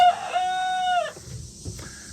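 A nearby rooster lets out one clear crow among a small flock of chickens, followed by quiet rustling and soft clucks.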